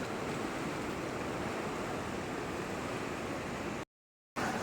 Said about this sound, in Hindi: इतना नदी का बहाव और मैं इसके पीछे सामने बैठा हुआ।